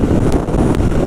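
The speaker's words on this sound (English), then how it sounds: "So, overall wind blast, yes," Steady roaring wind blast buffeting the microphone while riding a Royal Enfield 650 Shotgun motorcycle at around cruising speed, loud and continuous with no speech.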